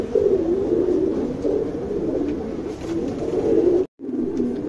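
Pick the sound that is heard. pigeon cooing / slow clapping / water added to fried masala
pigeon cooing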